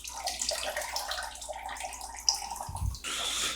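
A vintage Hamburglar plush toy is squeezed in a basin of murky water, giving soft sloshing and gurgling with a brief low squelch near the end. No one speaks.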